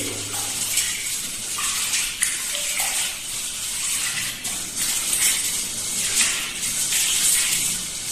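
Mung bean sprouts scrubbed by hand in a basin of water, a steady wet swishing and splashing with light clinks, continuous and close for several seconds with no talk.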